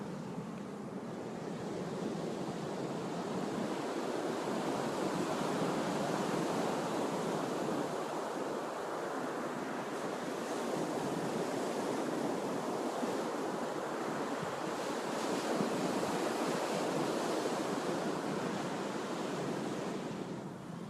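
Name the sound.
ocean waves on the Gulf Coast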